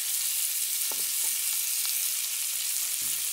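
Mahi-mahi sizzles in butter in a frying pan, a steady close crackling hiss with a few soft clinks of utensils, no voices.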